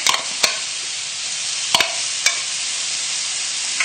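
Thai green curry paste sizzles loudly in a hot pan, a constant bright frying hiss broken by several sharp scraping clatters from a utensil stirring or scraping.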